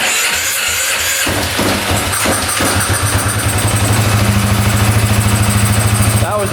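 An ATV engine, a machine once thought not worth fixing, cranks and catches, then settles into a loud, rapid, even idle thump that continues close by to the end.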